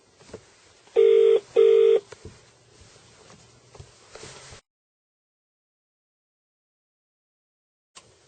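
Two short electronic beeps of a phone tone sound over faint background hiss, followed by near silence and a brief click at the end.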